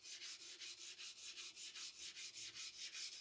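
A steel chisel rubbed back and forth on an oiled sharpening stone, a rhythmic gritty swish repeating about four times a second, close and steady with no talking.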